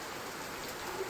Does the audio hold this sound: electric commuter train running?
no